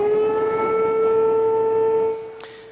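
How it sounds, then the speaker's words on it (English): Outdoor civil defense warning sirens in DeSoto and Lancaster, southern Dallas County, sounding a false alarm overnight: a steady loud wailing tone that holds and then drops away, with a short click near the end. "The outdoor warning sirens sounded for about a half hour in the cities of DeSoto and Lancaster."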